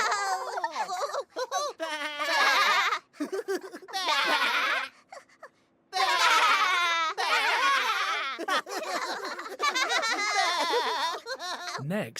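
Teletubbies characters voice an imitation of a sheep's bleat in a string of wavering, bleating cries, some overlapping, with a few brief pauses.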